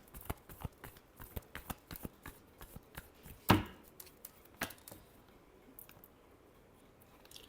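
Tarot cards are shuffled in a series of quick, crisp riffling taps at a steady rhythm, with one louder snap near the middle, close and fairly quiet.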